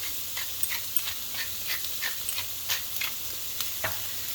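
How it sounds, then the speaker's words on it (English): Vegetables for a faux yakisoba stir frying in a pan at home, giving a soft steady sizzle broken by a run of light scraping stirs and clicks, close and fairly quiet, with no talking. "I'm just getting all these vegetables just kind of lightly stir fried"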